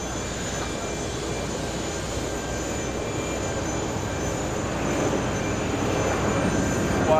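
A large airliner takes off at JFK airport, its engine roar a steady broadband rush that holds level and swells slightly toward the end, with no voices over it.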